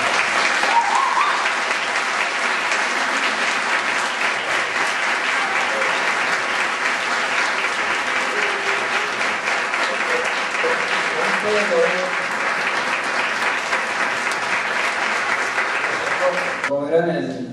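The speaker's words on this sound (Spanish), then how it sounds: "Porque bien merece un aplauso." Loud, continuous applause for the woman who made a memorial bust at its unveiling, a dense crowd clapping steadily, with faint voices underneath.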